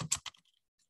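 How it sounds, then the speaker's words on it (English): A few quick keystrokes on a computer keyboard, close and quiet, clicking in a short burst before fading to near silence with one faint tap at the end. "I type in another paragraph."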